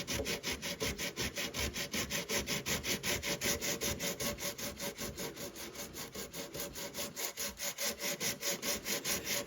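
A painted and primed guitar body is sanded by hand in fast, even back-and-forth strokes, a rhythmic scratchy rasp heard close and steady throughout.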